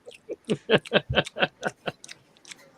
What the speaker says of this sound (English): I can hear you crunching perfectly well.